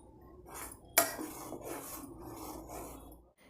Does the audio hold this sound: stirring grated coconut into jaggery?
yes